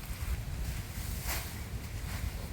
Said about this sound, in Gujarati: આજે તો મિત્રો બરોબર પવન કાઢ્યો છે।